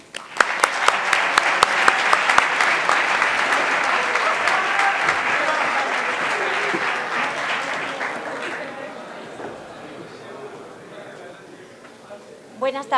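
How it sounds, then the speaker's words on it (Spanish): Strong applause from the audience at a pumpkin festival gala on the Alcoi university campus, loud dense clapping that thins out and fades after about eight seconds, leaving quiet room noise before a voice begins. "Pedimos un fuerte aplauso para Lucía Agut Alvesa."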